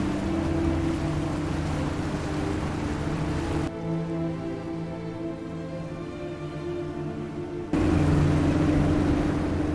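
A military rubber boat motors through Antarctic waters, its outboard engine droning steadily with wind and water noise, the roar dropping to a quieter hum midway before returning loud; no talking.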